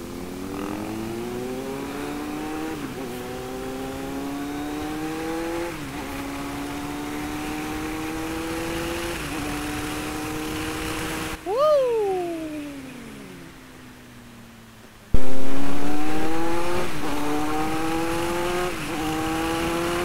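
A Kawasaki Z900 SE motorcycle engine hums steadily, then blips its revs sharply in a rev-matched downshift, roaring up again after a brief pause.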